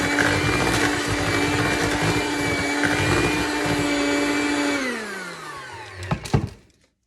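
Electric mixer blending sweet potato pumpkin pecan cookie dough, whirring loudly and steadily, then winding down as it switches off, followed by a few clatters as the beaters are knocked.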